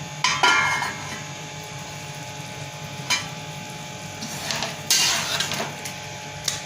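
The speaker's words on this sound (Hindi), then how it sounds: "अब हम अपना ढक्कन रिमूव करेंगे।" A metal lid is lifted off a cooking pot of simmering beef yakhni, giving several sharp metallic clanks and scrapes spread across the stretch, close and fairly loud, with no talking.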